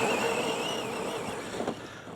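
A big Lancer EVO VI RC car on a 6S LiPo runs at full throttle over sand, its electric motor whining in a loud, steady high-pitched drone that holds nearly unbroken, with a brief surge near the end.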